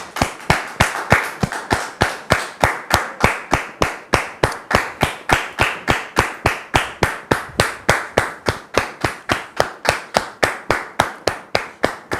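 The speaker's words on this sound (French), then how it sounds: "ça sera donc sous vos applaudissements le frère Serge. Voilà, on le reçoit maintenant sous vos applaudissements." Steady rhythmic clapping rings out for about twelve seconds as a studio audience on a French talk-show set welcomes a guest named brother Serge, each clap sharp and close, with no talk.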